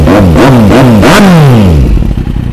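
A 2013 Kawasaki Z800 with an original Scorpion exhaust starts up and revs hard several times, loud and close, each blip rising and falling before settling into a rough idle.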